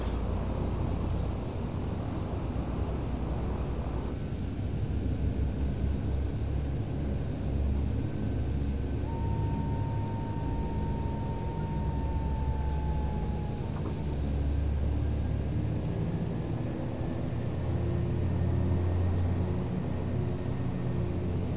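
Shorts 360 turboprop airliner in a flight simulator rolling for takeoff, a steady loud propeller drone and rumble with a thin high whine, constant throughout with no break.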